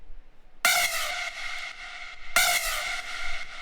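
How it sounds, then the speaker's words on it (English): Two bright synth chords strike a big room techno melody, each sustained with a long reverb tail, loud and close with no voices over them. "And then we've got the good old reverb with the P controller."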